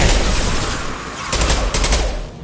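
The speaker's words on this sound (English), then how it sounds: "Firing an impact shot." Impact shot gunfire in the video game Mass Effect 2, loud dense bursts of rapid shots with crackling impacts, continuous and close.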